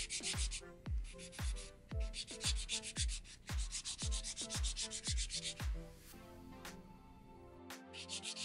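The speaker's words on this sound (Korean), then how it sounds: "샌딩 블록으로 마무리 해줍니다." Sanding block filing a polygel nail: steady rhythmic rubbing strokes, about a dozen evenly spaced scrapes, close and fairly loud, with no talking.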